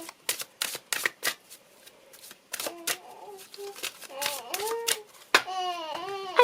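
Oracle cards being shuffled for a reading: a run of quick papery riffles and snaps that break into rhythmic bursts, close and fairly loud, with faint childlike babble and laughter in the background.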